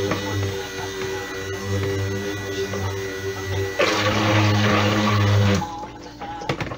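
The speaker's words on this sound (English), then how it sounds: "I'm going to blend this for a moment" A cordless stick blender runs steadily in soap batter for several seconds, a close, moderate motor hum with a brief surge in pitch near the end before it cuts off.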